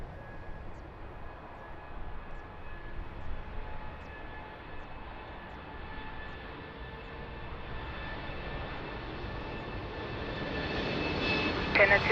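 A Portuguese Air Force C-130 at Lisbon Airport runs its engines, a steady broad roar with a droning hum that slowly swells louder toward the end, heard from a distance.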